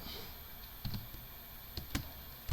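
Typing on a computer keyboard at a terminal, a few quiet scattered key clicks and taps over faint background hiss, with no talking.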